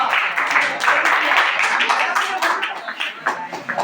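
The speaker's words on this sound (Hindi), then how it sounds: "मोहित के लिए ताली" An audience at a quiz contest claps briefly for a contestant, a close, uneven patter of hand claps that carries on steadily for a few seconds.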